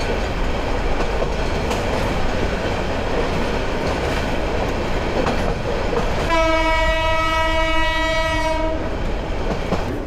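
A Nazirhat local train passes at a station crossing, a loud continuous rumble and rattle of wagons close by, with a sustained horn blast sounding for a couple of seconds near the end.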